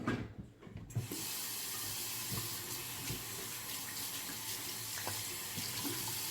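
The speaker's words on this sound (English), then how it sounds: "Let me wash my fingers off before I wash my face again" A bathroom sink faucet runs steadily while fingers are rinsed under the stream, giving a close, continuous hiss of water with faint splashes. It starts abruptly after a second of quieter sounds, with no talking.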